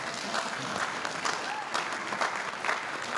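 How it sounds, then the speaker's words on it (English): Audience at a men's conference bursts into steady hand clapping that fills a large room at moderate distance. "Give me a hand clap."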